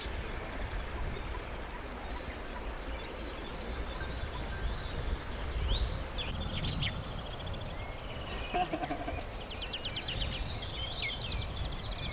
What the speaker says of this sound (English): I had never heard so many birds in one place.